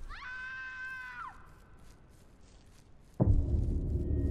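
A single scream from the horror video game Silent Breath rises sharply and wavers for about a second before cutting off, followed by quiet ambience and then a sudden loud low rumble.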